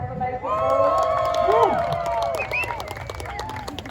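A crowd at a mountain bike trials show cheering, whooping and clapping, a lively sustained roar with shouting voices rising over it.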